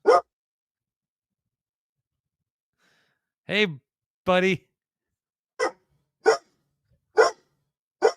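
A dog reacting to a doorbell gives several sharp barks spaced a second or so apart, close and loud, with a person briefly speaking to it between barks.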